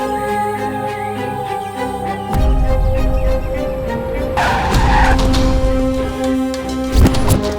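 A car brakes hard with tires skidding and screeching, a loud sustained squeal over engine noise and thuds, several seconds long in a dramatic scene.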